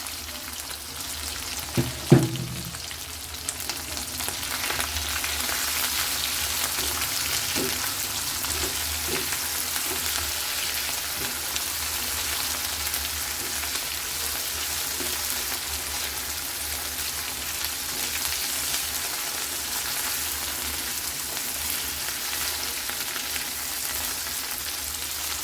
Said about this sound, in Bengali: এখন এর মধ্যে আমি শুটকিটা ভেজে নিব